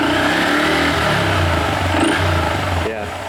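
A Honda Grom motorcycle engine fitted with a new MNNTHBX V3 intake revs up quickly and drops back, a deep, throaty roar close by, with some talk over it.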